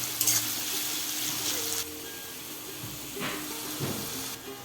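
Chopped onion hits hot oil already seasoned with cumin seeds, bay leaf and dried chillies for a country chicken curry, giving a steady crackling sizzle with stirring clatter and occasional louder spits.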